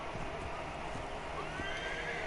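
Horse from The Witcher video game neighing and whinnying with clip-clop hooves, a steady game-audio bed running loud throughout, no talk over it.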